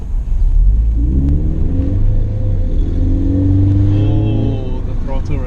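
A 2013 Toyota 86 engine revs as the car accelerates, a loud rising and falling drone heard from inside the cabin with a window open, overlaid by someone talking.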